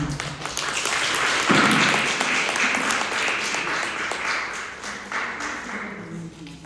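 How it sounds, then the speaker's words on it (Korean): An audience applauds at the opening ceremony of an artist's solo exhibition in Jeju, welcoming the artist: a sustained, dense wash of clapping that holds steady for several seconds and then eases slightly, with a voice faintly present. "큰 박수로 맞아주시기 바랍니다"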